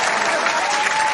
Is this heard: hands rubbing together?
no